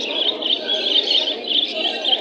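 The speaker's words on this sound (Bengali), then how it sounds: "মাশাআল্লাহ, খুব সুন্দর কবুতর, সিলভার লাহোরি" Silver Lahori pigeons at a busy pigeon market in Bangladesh, heard as a steady, close stream of high chirping calls with no clear break.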